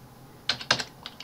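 Keys clacking on a computer keyboard while entering an Excel equation, a few close, crisp taps in a short irregular burst with no talk.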